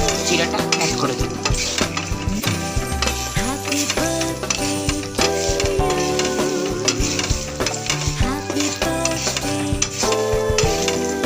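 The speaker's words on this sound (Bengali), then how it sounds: "এবার আমি চিনিটাকে ভালোভাবে গলিয়ে নেব।" Sugar melts in a pan while a utensil stirs and scrapes steadily against the metal, with continuous sizzling and repeated clinks close by.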